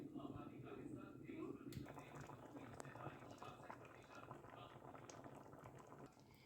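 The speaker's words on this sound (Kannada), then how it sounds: "ಹಿಂಗೆ ಕುದಿಲಿತ್ತದ ನೋಡ್ರಿ." Rajma curry gravy simmering in a covered pot, giving a soft, continuous bubbling hiss with faint pops and small lid rattles, steady and low in level.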